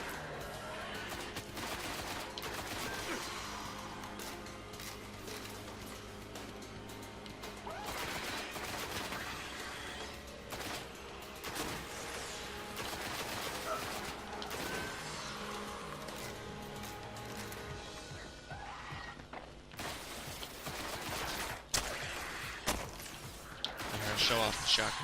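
In the video game Destiny, a shotgun fires repeatedly among bursts of gunfire and combat effects, sharp blasts scattered across a busy mix with someone talking throughout.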